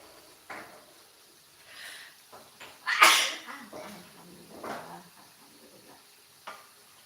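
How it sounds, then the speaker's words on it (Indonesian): One quick, loud sneeze bursts out during a live home cooking session, standing out clearly over soft kitchen clatter and quiet talk. "Bunda bersin mundur ya."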